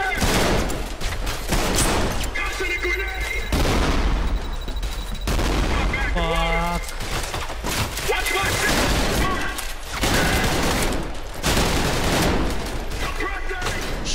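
Gunfire in the first-person shooter Trepang 2: loud bursts of automatic fire come in repeated volleys with short gaps, mixed with game effects, while someone talks between and over them.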